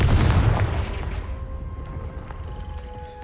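A Confringo fire spell in the Hogwarts Legacy video game lets off a loud booming blast that decays into a rumbling tail, with a faint tonal ring lingering afterward.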